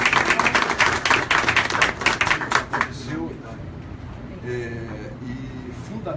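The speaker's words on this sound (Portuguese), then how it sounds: "Muito bem, uma salva de palmas." Audience applause at a political gathering opposing labor and pension reforms: a dense burst of clapping for about three seconds that fades quickly into quieter room sound with a voice talking.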